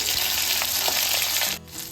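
Garlic cloves frying in hot oil in a wok give a loud, steady sizzle that fills the whole stretch, dipping briefly near the end.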